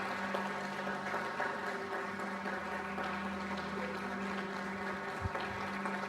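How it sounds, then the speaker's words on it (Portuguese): A church congregation claps in a thick, continuous wash, layered over sustained musical tones at an even, moderate level. "Dê uma forte salva de palmas ao Senhor Jesus"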